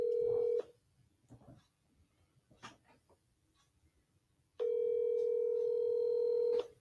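Telephone line tones on an outgoing call: a loud steady tone, a stretch of faint clicks and rustle, then a second long steady tone, with no speech over it.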